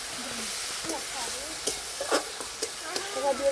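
Garlic paste, flour and spices are fried in a pan for a potato and green pea curry, with a steady sizzle and several clattering stirs growing busier toward the end, while faint voices murmur underneath.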